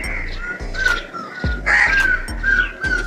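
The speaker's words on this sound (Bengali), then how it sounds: "কাক ডাকছে।" A crow caws outdoors, several loud harsh calls in a steady rhythm close by, over a low background hum.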